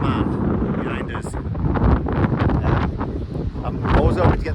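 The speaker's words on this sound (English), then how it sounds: "you might not be able to hear any sounds other than the wind at the moment" Strong coastal wind blows near the Calf of Man and buffets the microphone in a constant, heavy rumble, with a voice faintly present beneath the roar.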